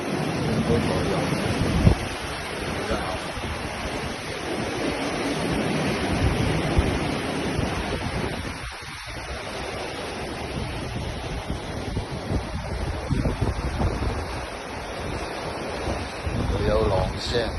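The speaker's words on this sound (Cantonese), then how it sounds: "有浪聲，" Open-sea waves break into whitecaps below a cruise ship bound for Okinawa, a continuous rushing wash mixed with steady wind buffeting the microphone, moderately loud throughout.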